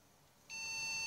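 A single steady electronic beep tone starts abruptly and holds, a thin high-pitched bleep from a computer motherboard with no RAM installed, alone in a quiet room.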